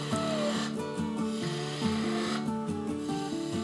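A skew chisel cuts a cove in spinning wood on a lathe, a continuous rough scraping rasp with rhythmic pulsing strokes, close and fairly loud.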